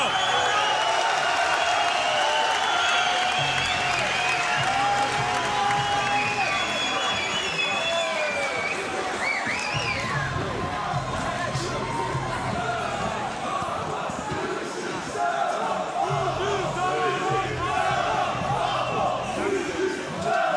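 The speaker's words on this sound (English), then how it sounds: "To this crowd in Essen, they have been very loud all night long." A loud arena crowd at a GLORY kickboxing title fight in Essen roars and cheers continuously beneath fast ringside commentary, surging in waves throughout.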